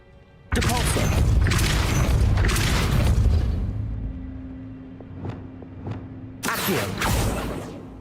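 A Depulso spell cast in Hogwarts Legacy, a loud booming whoosh that bursts in and rumbles, fades into a low hum with small clinks, then a second forceful blast near the end.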